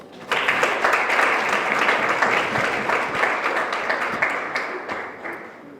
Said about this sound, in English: I think Felix deserves another hand clap